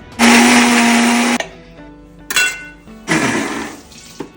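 A kitchen mixer grinder whirs through garlic, shallots, cumin, green chili and curry leaves in two loud, close bursts of high-pitched motor noise, separated by a short pause with light clatter in between.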